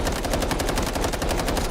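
Rapid automatic fire from the K437 rifle in the shooter Delta Force, a dense unbroken stream of sharp cracking shots at a fast steady rhythm, loud and close, lasting the whole burst with no talking.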